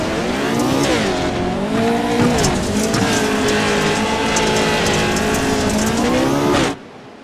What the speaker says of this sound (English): just enjoy the sound of 900 horsepower here